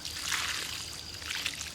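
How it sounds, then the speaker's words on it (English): Water trickles and pours steadily onto soil around a newly planted fig cutting in a garden bed, with dissolved baby aspirin mixed in, a close, continuous splashing dribble with no talk. "but we're going to water that in."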